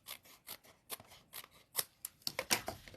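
Scissors trim card paper, with a quick run of crisp snips and paper rustles in irregular bursts, close and quiet, with no talking.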